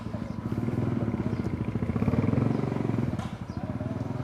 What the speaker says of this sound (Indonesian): Ya, ada motor Power Ranger lewat ya.